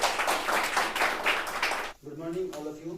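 An audience bursts into brisk, dense clapping for Manish Kumar Karn at a ceremony, loud for about two seconds before it cuts off and a voice begins speaking.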